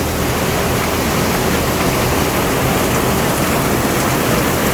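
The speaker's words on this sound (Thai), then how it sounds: "ฝนตกแรงครับวันนี้พายุเข้านะครับ" Heavy storm rain pours down on a construction site with a freshly poured concrete floor, in a dense, constant hiss, loud and unbroken for the whole stretch.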